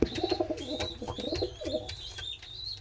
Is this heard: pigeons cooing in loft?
yes